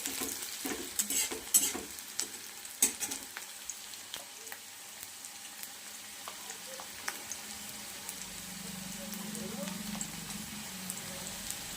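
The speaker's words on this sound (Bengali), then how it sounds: "করে ভেজে নেব আমি" Red amaranth greens with peanuts frying in a pan, with scattered clinks and scrapes of stirring early on, then a soft, steady sizzle building quietly underneath, faint and close.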